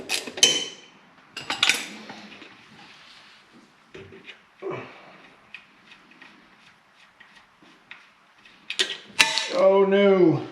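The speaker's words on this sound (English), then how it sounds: "so we'll use our 9-iron ratcheting wrench" A ratcheting wrench clicks in short bursts while turning a rear end cover bolt, quiet close ticks and creaks with sharper metallic clanks at the start and end, and a voice briefly heard near the finish.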